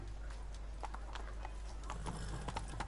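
Roach the horse gallops in The Witcher 3, hooves beating in quick, even clip-clop strikes, close and clear over a low background hum.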